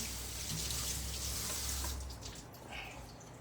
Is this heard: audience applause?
no